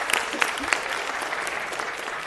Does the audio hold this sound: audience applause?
yes